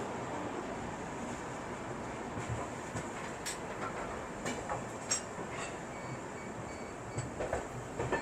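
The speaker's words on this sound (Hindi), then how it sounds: "तो अपनी ट्रेन बिल्कुल ऑन टाइम निकल चुकी है अजमेर रेलवे स्टेशन के प्लेटफॉर्म नंबर 5 से" An Ajmer-Patna express train rolls out of platform 5 at Ajmer railway station, giving a steady rumble of wheels on rails from inside a 3rd AC coach, with occasional soft clacks and faint metallic squeaks.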